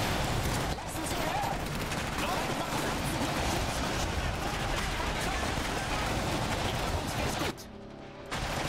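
Dense gunfire and artillery from the Polania campaign of the Iron Harvest real-time strategy game fill the stretch as a continuous loud barrage, with a brief dip near the end; no voice is heard.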